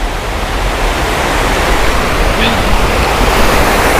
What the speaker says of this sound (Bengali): আর একটা এখানে জল যাচ্ছে এখান দিয়ে